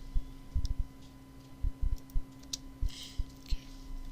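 A customer ID is typed on a computer keyboard: scattered light key clicks in short bursts and single taps, close and fairly quiet over a steady electrical hum.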